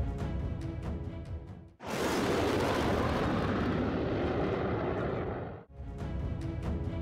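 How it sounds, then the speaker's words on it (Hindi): Indian Air Force fighter jets roar loudly over an expressway airstrip during a landing and take-off rehearsal, a sustained broadband blast lasting about four seconds between quieter stretches of distant rumble. "ऐसे में पूर्वांचलियों को लड़ाकू विमानों की खूब गर्जना सुनाई देगी।"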